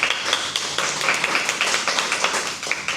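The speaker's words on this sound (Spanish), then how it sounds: "Damos entonces un aplauso a Sebas por su presentación." Audience clapping after a talk at a Spanish-language presentation on community resilience, a steady patter of hand claps at moderate level with no voices over it.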